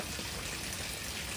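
Rainwater pours steadily into a house, a continuous, fairly faint rushing splash with no clear breaks.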